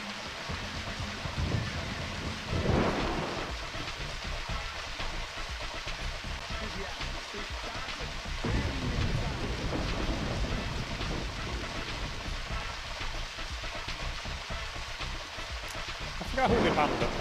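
Steady rain hisses through a stormy scene in the video game Deadly Premonition Origins, with low thunder rumbles breaking in a few times over the continuous downpour.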